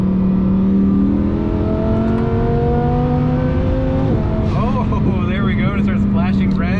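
A twin-turbo Lamborghini Huracan engine revs and pulls steadily higher from inside the cabin, with one clear upshift partway through. Someone talks over the engine.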